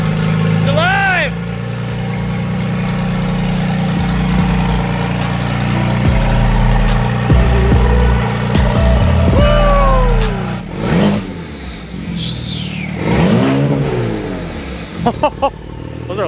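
A BMW 135i engine runs loudly at idle on its first startup, then revs up several times with rising and falling pitch. Excited voices talk and shout over the engine.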